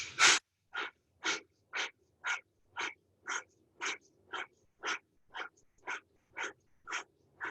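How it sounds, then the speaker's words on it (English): Rapid, rhythmic breaths pumped in and out during a yoga strength class, about fourteen sharp, evenly spaced puffs heard close and fairly loud, with no talking. "breathing in."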